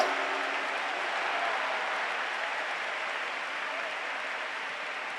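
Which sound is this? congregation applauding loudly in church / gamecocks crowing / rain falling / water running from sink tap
congregation applauding loudly in church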